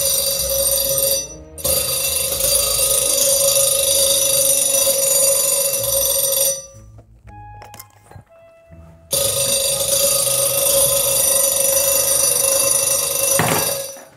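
A very loud alarm clock rings at night, a harsh steady electronic ringing that holds for several seconds, cuts off briefly, resumes, drops away into a quieter stretch of scattered beeps and clicks, then blares again to the end.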